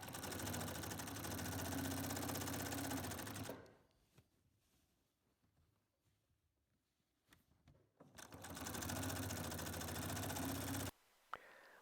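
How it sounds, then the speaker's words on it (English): A sewing machine stitches quilt binding on a cat silhouette quilt with a steady, rapid mechanical whir, pausing for several seconds of quiet handling before running again at the same pace. "I'm sewing here right at about 1/4 of an inch of a seam allowance"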